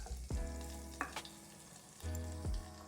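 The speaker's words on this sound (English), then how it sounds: "once it's sizzling away" Garlic butter sizzles in a frying pan, a steady close hiss of frying broken by a few sharp clinks and stirring scrapes, with no voices.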